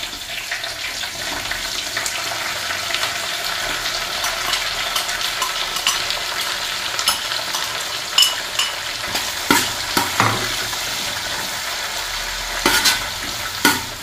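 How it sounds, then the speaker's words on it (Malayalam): Chopped onion and garlic sauté in a hot pan for a curry with steady, close sizzling throughout, broken in the second half by sharp scrapes and clacks of a spoon stirring the pan. "ഉള്ളി. ഇത് നന്നായിട്ട് വഴന്ന് വരുന്നിടം വരെ വെയിറ്റ് ചെയ്യാം."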